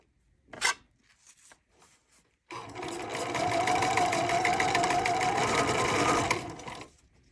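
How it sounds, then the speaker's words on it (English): A few soft handling noises come first, then a sewing machine stitches elastic onto the edge of a wireless bra band in one steady, close run lasting about four seconds before stopping. "We're going to stitch straight across on this edge."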